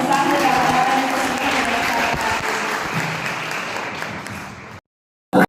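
A church congregation at a Father's Day service gives loud, sustained applause to its pastor, dense clapping throughout before cutting to silence near the end.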